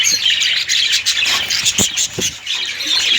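A colony of budgerigars in a cage chirps and chatters continuously, a dense, loud flock of overlapping tweets and squawks with no talk.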